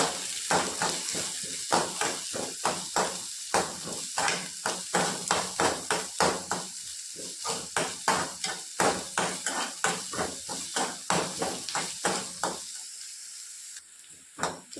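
Onions sauté in a pan for a Tamil home-cooked dish, with a spoon or spatula scraping and knocking against the metal in a quick, uneven rhythm over a faint sizzle, close up and with no voices.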